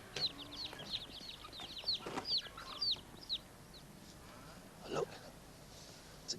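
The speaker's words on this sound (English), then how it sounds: "Little chicks over there. They're tiny." Tiny chicks on a farm peeping in quick bursts of high chirps, close by, alongside faint clucking and a few brief background voices.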